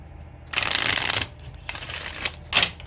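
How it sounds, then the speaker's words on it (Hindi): A tarot card deck being shuffled up close, with a long riffling burst followed by two shorter shuffles, and no talking. "तो शफल कर लेते हैं थोड़ा"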